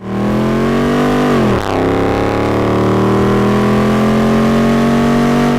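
A 2011-2014 Ford F150 with a 5.0L V8 and a Roush cat-back exhaust revs hard and loud up close, dips briefly, then holds a steady deep droning rev to the end.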